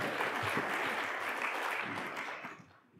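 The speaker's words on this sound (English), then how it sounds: "It's nice to get applause for just showing up" Audience applause at an event marking 50 years since the Stonewall riots, a full wash of clapping from a crowd that holds steady, then tapers away in the final half second.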